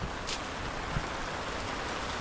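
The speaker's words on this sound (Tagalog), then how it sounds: "at namayok ang ulan" Heavy rain pours down outdoors during a harvest, making a dense, steady hiss that fills the whole stretch without pause. A couple of faint knocks sit under the downpour, and no one speaks.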